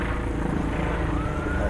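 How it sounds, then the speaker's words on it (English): A helicopter drones overhead in an ambient sound mix, a steady low rotor rumble with a faint whining tone, loud and unbroken throughout the short stretch. "Helicopter overhead."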